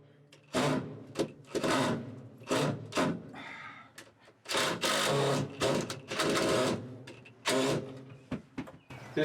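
Power driver sinking screws into the wooden framing of a rabbit cage, heard as a series of loud whirring bursts with short pauses between them and a brief scraping noise in the middle.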